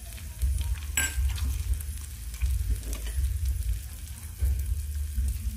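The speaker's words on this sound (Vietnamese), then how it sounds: "Đó, mình sẽ cho 5 muỗng nước mắm chai." Mock-meat (seitan) stir-fry sizzles steadily in a pan as bottled fish sauce goes in, with a brief bright splash near the start and continuous frying hiss throughout, no talking.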